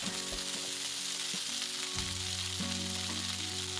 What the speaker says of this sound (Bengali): আবার ওই তেলে মটরশুঁটিগুলো দিয়ে ভালো করে ভেজে নিতে হবে